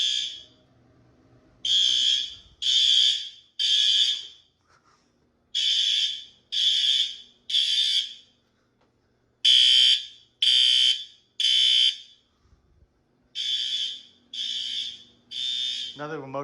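A school fire alarm under test sounds in repeated groups of three loud, piercing electronic tones separated by short pauses, four sets in a row, close and dominant.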